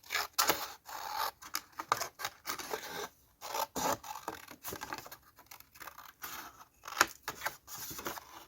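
Scissors snip and slide through a paper bag in short repeated strokes, crisp rustling cuts with brief pauses, close and moderately quiet, with no voices.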